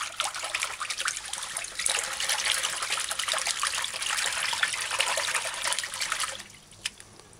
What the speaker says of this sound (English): Wash rice properly.